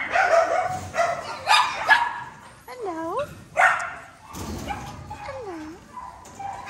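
Dogs at an animal rescue centre, some with health conditions, give repeated barks, yips and rising whimpers at close range, with people talking in between.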